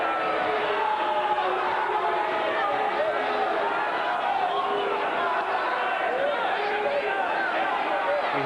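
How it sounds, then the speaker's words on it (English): Large arena crowd at an MMA event, a sustained noisy roar with vocal murmur and scattered calls that may carry booing, continuous throughout. "We hear some boos from the crowd"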